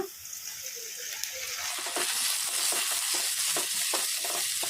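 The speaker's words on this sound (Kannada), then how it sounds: "ಟೊಮೊಟೊ ಚೆನ್ನಾಗಿ ಮೆತ್ತಗೆ ಫ್ರೈ ಆಗೋವರೆಗೂ ಫ್ರೈ ಮಾಡ್ಕೊಂಬಿಡೋಣ" Tomatoes drop into a pan with garlic for an onion curry, and the sizzle swells after a quieter start into a steady, close fry marked by repeated stirring scrapes.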